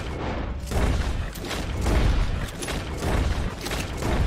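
Repeated gunshots fired in Dead Eye mode in the video game Red Dead Redemption 2, a dense run of booming shots coming in close succession, loud and near, with no talk over them.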